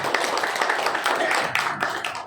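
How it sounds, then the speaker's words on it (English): Conference audience applauds in a hall, a dense, steady wash of many hands clapping together for a couple of seconds, fairly loud and close. "A huge round of applause"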